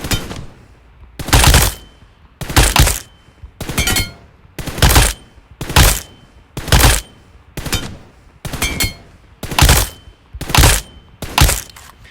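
Gunfire from the video game PUBG Mobile comes in about ten loud, evenly spaced automatic bursts close up, each a sharp rattling volley separated by short pauses, with no talking.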